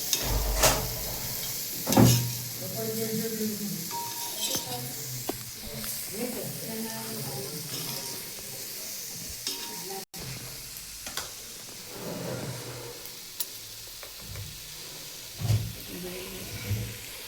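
White okra and vegetables are stir-fried and mixed in a pan, with a soft continuous sizzle and scattered scraping and clanking of a spoon against the pan, a few sharper knocks, and faint voices in the background.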